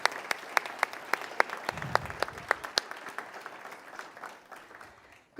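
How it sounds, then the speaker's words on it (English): Sparse, scattered claps ring out at a graduation commencement ceremony for the 2020 graduates, a handful of distinct sharp hand claps in a loose rhythm, tapering off toward the end in a fairly quiet space. "Would everyone please join me one more time in more applause for these amazing graduates?"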